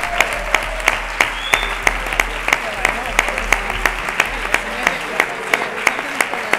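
An audience at an international development studies congress closing ceremony gives volunteers a sustained round of applause, steady rhythmic clapping filling the hall at close range, with a voice speaking underneath.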